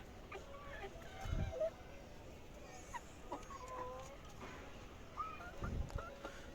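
Several hens in a small farm coop clucking in short, scattered calls, with a couple of louder honking squawks standing out over a quiet, steady background.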